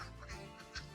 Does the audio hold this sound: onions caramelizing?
no